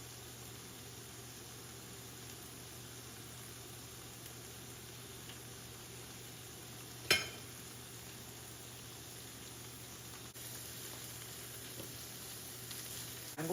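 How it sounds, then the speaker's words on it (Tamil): Fish fillets frying in a pan for fish tacos: a steady, close hiss of sizzling oil, broken once midway by a brief metallic clink. "இந்த ஃபிஷ் வந்து ஒரு 5 மினிட்ஸ்லேயே குக் ஆகிடும். குக் பண்ணி கொண்டு இருக்குது."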